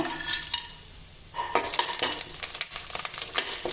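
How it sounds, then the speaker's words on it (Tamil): Hot oil crackles and sizzles steadily as spices fry, with scattered pops and the scrape of a spoon stirring in a pan. "இப்போ இது எல்லாமே நல்லா பொறிஞ்சிருச்சுங்க"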